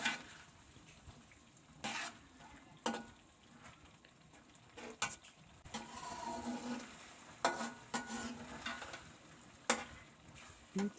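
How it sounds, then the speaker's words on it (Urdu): Shelled peas for matar pulao fry in a pot and are stirred with a spoon. A steady sizzle sits under repeated scraping and clinking strokes against the metal, with no one talking. "تھوڑا سا اس کو بھونیں گے۔"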